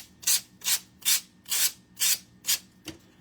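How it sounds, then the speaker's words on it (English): Rough grit sandpaper rubs over wood in six even back-and-forth strokes, each a bright scratchy rasp, followed by a softer final pass and a light knock, close and clear. "We are going to now sand this guy. And I have this really rough grit sandpaper"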